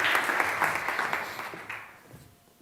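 Audience applause at a technology talk on new materials and nanotechnology, a dense steady wash of clapping from a large seated crowd that gradually fades out toward the end.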